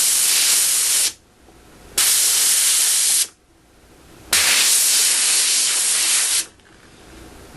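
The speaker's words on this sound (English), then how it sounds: "we'll press that down to give ourselves 1 to 2 second blasts of steam" A GemOro Brilliant Spa jewelry steam cleaner lets off three loud, close hissing blasts of steam, each about one to two seconds long, with short quiet pauses between them.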